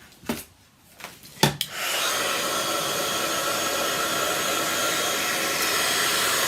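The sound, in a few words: heat tool heating cardstock for crafting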